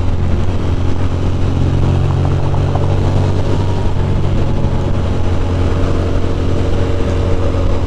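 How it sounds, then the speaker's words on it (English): A Ducati motorcycle's engine rumbles steadily and loudly on a highway ride toward New York City, a continuous close drone with road and wind noise throughout. "car sounds freaking epic."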